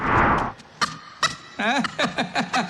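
A neighbour's chicken gives a loud run of squawking, clucking calls close by, following an initial burst of broadband noise.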